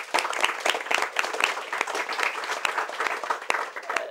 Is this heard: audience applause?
yes